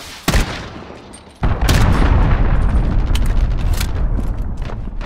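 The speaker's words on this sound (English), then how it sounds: "Allied cruise missile launched." An allied cruise missile strike in Call of Duty Modern Warfare multiplayer lands as a loud boom, followed by a heavy, sustained roar of explosions and rumbling impacts that carries on to the end.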